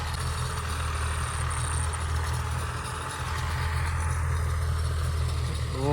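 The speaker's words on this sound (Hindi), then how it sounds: "ये जिस सामने ट्रैक्टर वाला हल चला रहा है खेत में।" A farm tractor pulls a plough through a field, its engine a steady low idle-like drone with a faint rattle, continuous and fairly close, with no voices.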